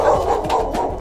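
A dog barking close by, a quick run of two or three short, loud barks packed into a single second.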